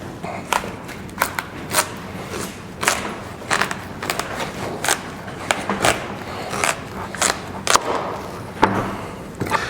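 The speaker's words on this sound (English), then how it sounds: "I'm going to take this squash here. And I'm just going to cut it." Spaghetti squash being sliced into rounds with a knife, giving a run of irregular thuds and crunching cuts on a board, fairly close and moderately loud, with no talking.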